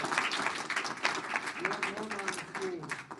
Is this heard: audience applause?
yes